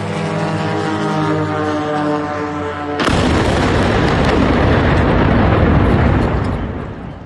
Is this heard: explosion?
yes